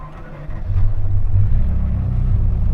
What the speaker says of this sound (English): First time driving a Ferrari F40.